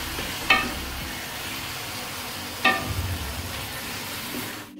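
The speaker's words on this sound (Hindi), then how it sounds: "अब मैं इसमें डालूंगी गोश्त, इसे अच्छे से मिक्स करेंगे हम" Meat for beef chatpata tikka added to fried onion and spices in a pan, a continuous sizzle with two sharp stirring scrapes and some low rumbling movement.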